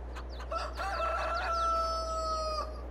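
Chickens cluck and a rooster crows over a steady low hum in Farming Simulator 22, the calls bright and close.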